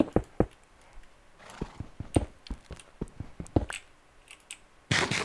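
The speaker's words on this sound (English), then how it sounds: "I just heard a horse." Scattered hoof clops and short clicks, with a brief whinny-like burst near the end; Minecraft-style horse sounds in a UHC match, fairly quiet and uneven in rhythm.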